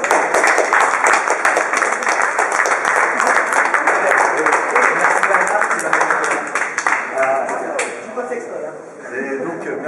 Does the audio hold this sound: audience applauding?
yes